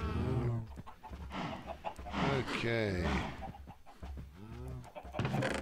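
Minecraft chickens cluck in short, pitched bursts across the scene, close and moderately loud, mixed with a person's brief talk.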